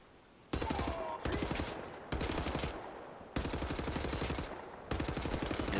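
Bursts of rapid automatic gunfire in Wolfenstein: The New Order, loud and close, come in several long volleys separated by brief pauses.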